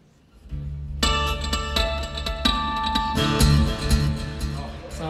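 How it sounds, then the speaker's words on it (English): An electric guitar is played through stereo quarter-note and dotted-eighth delays, with bright picked notes echoing in a rhythmic cascade that fills the room, clear and alone. "these two delays are going to kind of do a math equation together and create this really cool kind of sound that's going to bounce"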